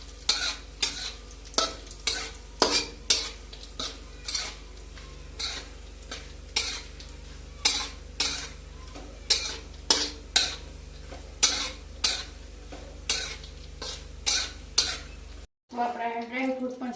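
Dry fruits fry in ghee over a low gas flame while a spoon scrapes the pan in a steady rhythm of about twenty strokes, each a crisp clink over a soft sizzle; a short burst of a voice comes at the very end.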